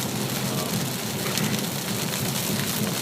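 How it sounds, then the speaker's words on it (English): Heavy rain drums steadily on the roof and glass of a 2014 Chevy Impala LTZ, a dense continuous hiss heard from inside the car with no talk. "As you can hear, it's raining pretty hard."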